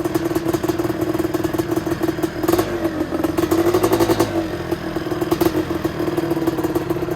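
An original 1990 Zilla motorcycle engine running nearby, a steady buzzing drone with rhythmic clatter and small revving swells, no talk over it.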